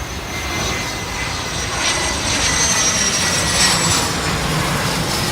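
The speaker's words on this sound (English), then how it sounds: "Ooh, I hear a plane. Small one." A small airplane's engine drones steadily overhead as it comes in to land at Maho, Sint Maarten, a continuous loud rumble that builds slightly as it approaches.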